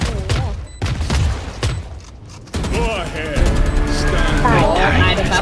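Rapid bursts of gunfire from the tactical shooter game Valorant, sharp repeated shots in quick clusters mixed with game effects, under excited talk from players throughout.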